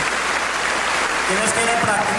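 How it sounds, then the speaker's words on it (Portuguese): Applause during a Portuguese-language church service, a steady dense wash of clapping that fills the whole moment, with voices mixed into it. "um aplauso para nosso Senhor"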